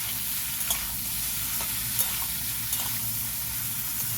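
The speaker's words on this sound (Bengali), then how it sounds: "এভাবে আমগুলোকে কিছুক্ষণ আমি নাড়াচাড়া করে নেব" Mango pieces for a sweet-sour mango pickle are stirred in a hot pan. A steady, loud sizzle of frying runs throughout, with a few soft scrapes of the spoon rising above it.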